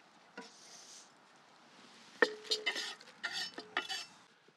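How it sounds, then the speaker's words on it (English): Chopped onions tipped into a Dutch oven for Texas chili: a soft scrape, then a run of close clinks and knocks of a utensil against the pot, quiet in between. "I'll just add my last of the 3 onions that I chopped finally into my Dutch oven"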